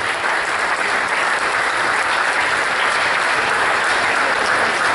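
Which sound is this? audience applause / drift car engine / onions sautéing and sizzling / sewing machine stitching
audience applause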